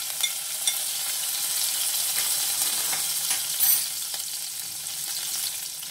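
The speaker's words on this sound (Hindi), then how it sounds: "अब मैं कढ़ाई में सबसे पहले जीरा डालूंगी, करी पत्ता, अदरक और हरी मिर्च" Cumin seeds, curry leaves, ginger and green chilli sizzle in hot oil in a kadai, a steady close crackling hiss with occasional spatters and the clink of a stirring spoon.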